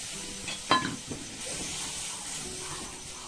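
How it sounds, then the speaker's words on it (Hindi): Milk poured into semolina roasting with a little flour in a pan on a low flame, a brief splash followed by a steady soft hiss and sizzle. "1 कप इसमें दूध डाल रही हूँ।"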